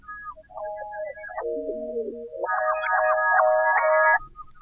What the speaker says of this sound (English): So I reversed it. I added the spectral gate, and listen to the difference this makes.